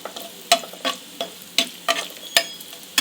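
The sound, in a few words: coconut frying in a pan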